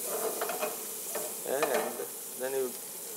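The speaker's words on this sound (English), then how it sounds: "next is we're gonna drop the capers. Throw them a little bit." Capers hit a hot pan with veal, giving a steady sizzle of frying with a few brief bursts of stirring and scraping, close and moderately quiet.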